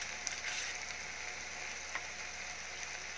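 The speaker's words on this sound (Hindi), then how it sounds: "थोड़ा सा सॉटे करते हैं इसमें" Three medium red tomatoes sauté in a pan, giving a steady, soft, close sizzle with faint crackle that runs evenly throughout, no voices.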